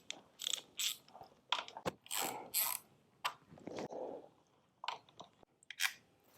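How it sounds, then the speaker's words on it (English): A hand ratchet tightens hardware on a luggage rack for a Harley-Davidson Sportster S motorcycle, giving bursts of close, crisp clicking strokes separated by short pauses, with small metallic knocks between them. "I prefer something to ratchet, so we're gonna use my own."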